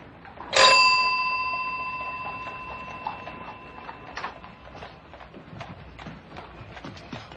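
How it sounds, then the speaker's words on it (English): A doorbell in a 1959 comedy film rings once with a sharp bright chime that rings on and slowly fades, followed by faint footsteps and room noise. "Answer the bell."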